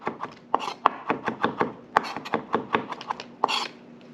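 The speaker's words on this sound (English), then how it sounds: "I just want to kind of rough chop" Knife roughly chopping capers on a cutting board, a quick irregular run of sharp taps, close and crisp, roughly a dozen strokes with no talking.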